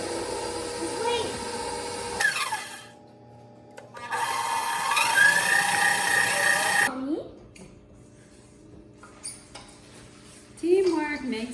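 Electric mixer whirring through carrot cake batter with canola or vegetable oil, two loud bursts of steady motor buzz with pauses between, voices talking around it.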